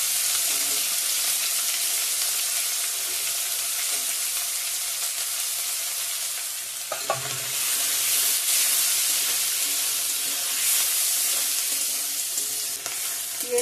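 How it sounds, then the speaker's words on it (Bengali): Chopped onion frying in oil with cumin seeds and cardamom, a steady close hiss and sizzle throughout, with an occasional stir about midway. "পেঁয়াজটাকে হালকা লাল লাল করে একটু ভেজে নেব"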